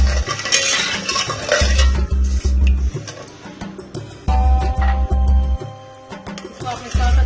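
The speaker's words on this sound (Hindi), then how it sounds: "इसको आपने साथ चम्मच हिलाते जाना थोड़ी थोड़ी देर के बाद" A metal spoon stirs milk and sugar in a cooking pot for strawberry ice cream, scraping and clinking against the pot in repeated rhythmic bursts, close and clear, with brief pauses between strokes.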